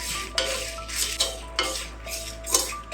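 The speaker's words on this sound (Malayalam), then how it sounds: "ഇതിലേക്ക് വറ്റമുളക് ചേർക്കാം ചെറിയൊരു പീസ് കായവും ചേർത്ത് ഇത് നന്നായിട്ട് വറുത്തെടുക്കാം" A metal spoon scrapes and stirs dried red chilies and a small piece of asafoetida dry-roasting in a pan, with sharp clinks about every half second over a faint crackle.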